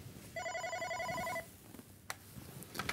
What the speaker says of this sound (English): Answering a call is as easy as picking up the phone when the phone is ringing.